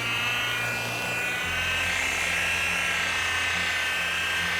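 Steady, continuous whir of a buffing polisher with a foam pad working over 13-year-old car paint, loud and close, with an even motor hum throughout and no talking.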